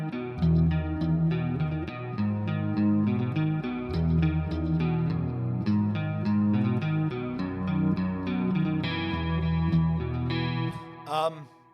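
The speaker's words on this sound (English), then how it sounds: "Love me a good chorusy tone." Electric guitar played through a chorus effect pedal, a steady stream of shimmering picked notes and chords for about ten seconds, bright and clear with no talking.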